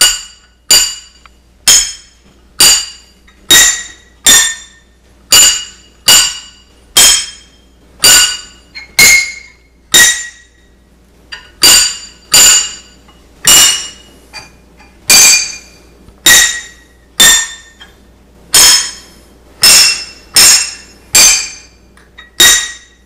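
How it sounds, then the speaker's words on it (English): Tiles of a homemade tilophone struck by a hammer mechanism, playing Happy Birthday as a slow sequence of bright, glassy clinking notes, each sharply attacked and quickly decaying, with evenly spaced phrases and short pauses between them. "this acts a lot like a xylophone, except I'm not hitting the tiles with spoons. I'm doing it through a hammer system"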